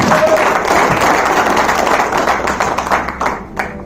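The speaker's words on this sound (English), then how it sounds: "So can we have a round of applause for us?" An audience claps and applauds at a business networking group's fourth anniversary celebration, a dense, fairly loud burst of hand claps that thins out and tapers toward the end.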